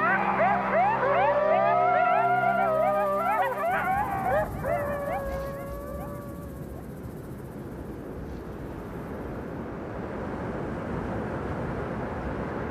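A group of coyotes in Yellowstone howls and yips together in rising, wavering wails that fade after a few seconds, leaving a steady hiss of wind or running water.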